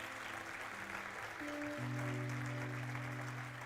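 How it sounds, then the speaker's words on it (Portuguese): A church congregation applauds, a soft wash of clapping spread evenly under sustained organ or keyboard tones, distant and faint with no voices on top. "você pode dar um aplauso ao Senhor por esses versículos"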